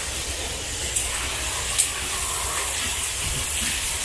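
An aerosol spray hisses steadily onto a car tyre, a continuous broadband hiss with two faint clicks, close and fairly loud.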